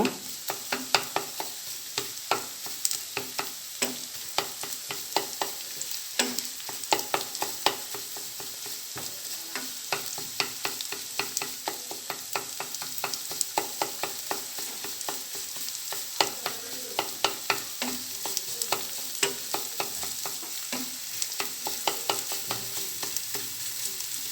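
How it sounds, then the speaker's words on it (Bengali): An egg is scrambled in a frying pan, sizzling steadily while a utensil scrapes and stirs against the pan in quick, irregular clicks and taps, close up and moderately quiet, with no talking. "আমি ডিমটাকে একদম ঝুরি ঝুরি করে নিব।"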